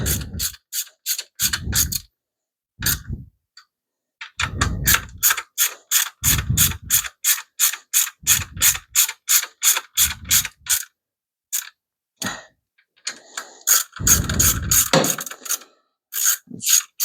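Rapid runs of sharp ratchet clicks from tightening engine lifters, in repeated bursts broken by short pauses, close and loud.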